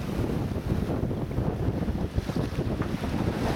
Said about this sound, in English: Old boat's rocking around a bit.